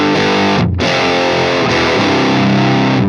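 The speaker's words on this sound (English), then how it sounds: "So this is what it sounds like on the setup I've got at the moment." An electric guitar runs through the STL Tones AmpHub Saratov M50 amp sim, playing thick, heavily distorted chords that sustain loudly. A brief choked gap comes near the start.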